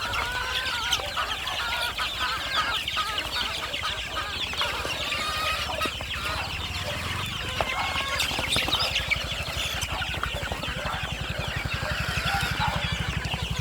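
A brood of young chicks on a farm peeps constantly, many high chirps overlapping in a dense, busy chorus that stays close and fairly loud throughout.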